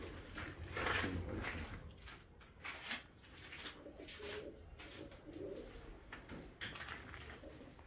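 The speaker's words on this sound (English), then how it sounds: "Shane's Pigeon Loft at the Saxon Farms." Pigeons coo steadily inside a pigeon loft on a farm, soft repeated calls at close range over a low rumbling background, with a few sharper noises mixed in.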